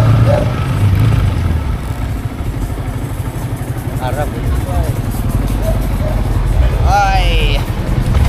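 Motor engines drone steadily at close range along a Philippine road, a continuous low rumble that never lets up, while people talk over it and a few brief higher tones break through near the end.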